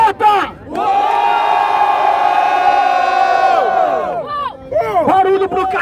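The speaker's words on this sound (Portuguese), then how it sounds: "Barulho pro Smion e pro Mota" Crowd at a Brazilian rap battle shouting and cheering in a sustained roar, with a louder surge that fades into scattered whoops.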